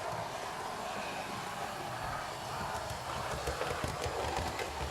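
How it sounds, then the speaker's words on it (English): A model train runs around a mainline layout track in a room lit by fluorescent light, giving a steady, continuous rattling and clicking roll with no talk over it. "The train's running around anyway."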